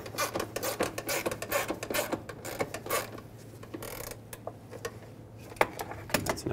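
A fan shroud mounting bolt is tightened on a 2008-2010 Ford F-250 during a radiator replacement, producing rapid close clicking and rasping bursts in irregular runs with short pauses; no one speaks.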